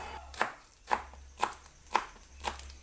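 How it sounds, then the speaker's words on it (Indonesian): A knife thinly slices celery stalks on a cutting board in five evenly spaced, crisp chops about half a second apart, close and clear with no talking. "Dan ini aku gunakan 2 batang daun seledri diiris tipis juga."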